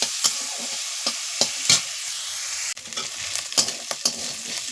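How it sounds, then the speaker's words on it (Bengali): Freshwater snails frying lightly in hot oil in a kadai, a steady sizzle broken by several sharp spatter pops and stirring scrapes, close and fairly loud, with no talking. "এবার আমি গেঁড়িগুলো দিয়ে দিচ্ছি মুড়িকে খুব বেশি ভাজবো না হালকা করে ভাজবো"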